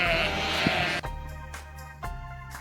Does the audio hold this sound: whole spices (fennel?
no